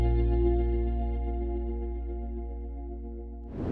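A dark guitar pattern built in FL Studio with its top notes removed, leaving sustained low chords and bass under chorus-like effects, ringing steadily before a brief new attack at the end.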